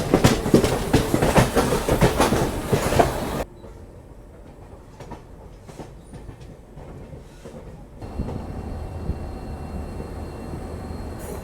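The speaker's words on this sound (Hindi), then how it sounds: "कोई तो ट्रेन आ रही है बैक पाइप के साथ, पार्सल वैन है, संबलपुर जम्मू तवी" Sambalpur–Jammu Tawi parcel van train passing at a station, a loud rumbling roar with rattling wagons that drops off abruptly, then a lower steady rail rumble returns near the end.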